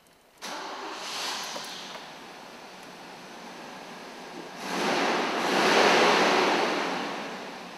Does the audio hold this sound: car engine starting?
yes